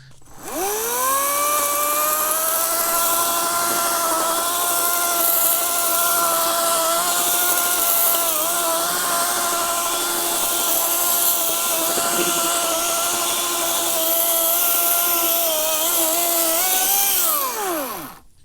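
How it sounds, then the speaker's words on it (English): A battery-powered electric chainsaw whirs up, runs at a loud, steady high-pitched whine for a long stretch, then winds down as it stops. "Electric chainsaw. You ready? Here we go."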